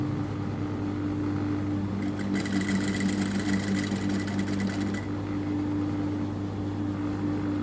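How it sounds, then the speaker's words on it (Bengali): A sewing machine runs steadily for about three seconds in the middle, stitching alongside piping on fabric while a chain is attached. A constant low motor hum fills the rest of the stretch. "সেলাইটা একদম পাইপিনের পাশ থেকে ধরে দিব"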